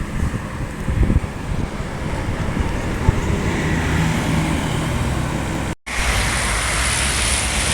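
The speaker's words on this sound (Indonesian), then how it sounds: "2 unit mobil TAM-nya berangkat." Two PO TAM buses pull away on a roadside in West Sumatra, their engines and road roar forming a loud continuous wash with wind buffeting the microphone and a brief dropout near the end.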